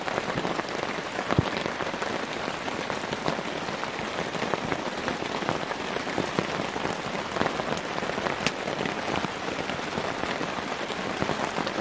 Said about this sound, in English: Listen to the rain. Listen to the rain.